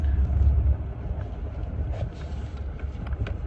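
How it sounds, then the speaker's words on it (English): A truck engine rumbles low and steady throughout, somewhat loud at first and then easing slightly, with no voices present. "I don't know if you probably heard the truck"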